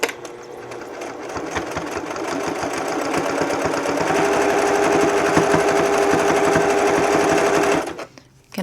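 A sewing machine stitches a reusable kitchen cloth in a fast, steady mechanical rattle, starting with a back stitch at the corner, running loud and continuous for several seconds before stopping abruptly.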